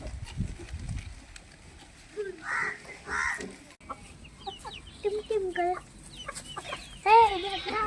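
Chickens clucking and calling intermittently at a goat and poultry farm, some calls close and loud, others softer, over a low background murmur.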